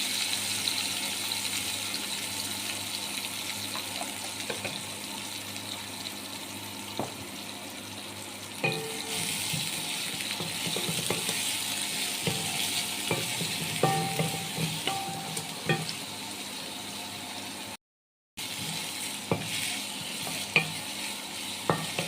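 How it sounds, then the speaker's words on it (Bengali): Onions crackle and sizzle with cumin seeds in a hot pan, a constant close frying hiss with occasional stirring clinks and brief scraping sounds. "পেঁয়াজটা ভাজা হোক"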